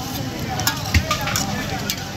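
Special chicken chap fries in a Bangladeshi hotel and biryani house kitchen, giving a steady close hiss and sizzle with a few soft knocks and faint voices in the background.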